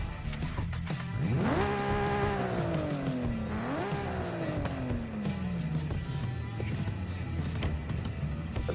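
Racing video game car engine revving hard, pitch climbing steeply then falling away in two sweeping surges, loud and sustained over a steady game background with no talk.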